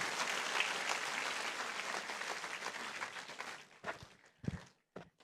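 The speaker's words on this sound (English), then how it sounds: "For you, you can clap." Applause from an audience at a regional Tele-Law workshop in Chennai, an even wash of many hands clapping for a few seconds, then dying away into a few last isolated claps.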